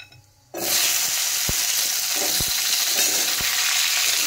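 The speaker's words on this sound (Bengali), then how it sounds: "মশলাগুলো কিন্তু ভালো করে ভাজা হয়ে গেছে। এখন আমি কেটে রাখা আমড়াগুলো দিয়ে দেব।" Loud, steady sizzling of spices and hog plums frying in a hot pan, starting abruptly after a brief quiet moment, with a few soft clicks of stirring.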